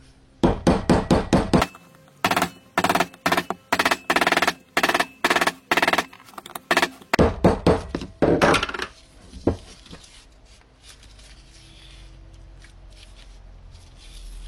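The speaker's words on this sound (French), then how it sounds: "je prends un marteau ce coup-là et je vais enfoncer le spi jusqu'au fond" A hammer drives the rear oil seal into a Mazda RX8 rotary engine during a rebuild, with about two dozen sharp, evenly spaced metallic strikes in quick bursts, then falling quiet apart from faint background noise.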